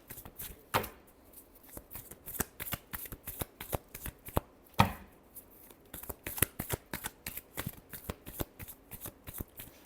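Tarot cards are shuffled by hand in quick, crisp riffling bursts, a dense run of sharp papery slaps up close with a couple of louder snaps and no talking.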